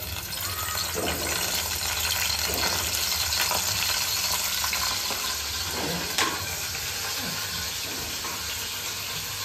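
Garlic and curry leaves hit hot oil in a home kitchen, a loud, close, continuous sizzling hiss with crackling spits and brief stirring scrapes, no one talking.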